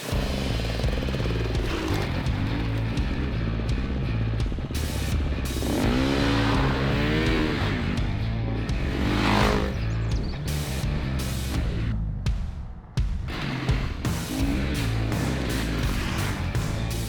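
GasGas EC350f enduro motorcycle engine running loud and close throughout, a steady throbbing drone with repeated revving swells and rising pitch sweeps, no talk over it.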